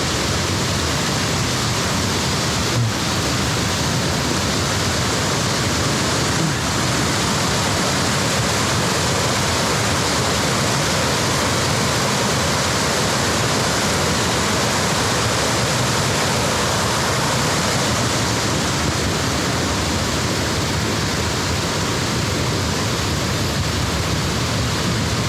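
A mountain valley stream on a Sobaeksan hiking trail in summer rushes and splashes constantly, a dense, loud, unbroken wash of water noise with no voices.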